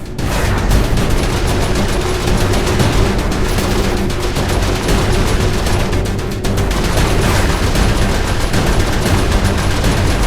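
Dense, loud gunfire fills a Saints Row IV gameplay scene, rapid overlapping shots and automatic bursts running almost nonstop, with a brief lull midway and no talking.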